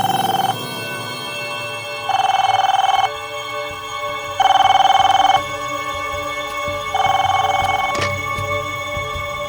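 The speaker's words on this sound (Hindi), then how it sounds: "उस रात जब तुम सो रहे थे तो वहां पे एक फोन आया था।" An old-style telephone bell rings in four evenly spaced bursts, loud and near, with quiet pauses between each ring.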